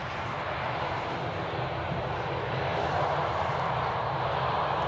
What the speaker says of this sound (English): That A320 is going to Malta.